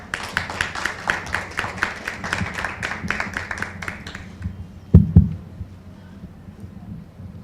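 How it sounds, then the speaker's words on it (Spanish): Audience applause at a literature panel on contemporary Chilean writing at a Lima book fair: a steady run of dense hand claps for about four seconds, fading out, followed by a couple of sharp knocks near the microphone. "Un fuerte aplauso, por favor"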